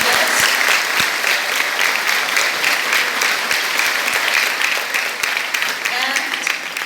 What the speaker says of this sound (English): Shall we all give a big hand of applause to our chief guest?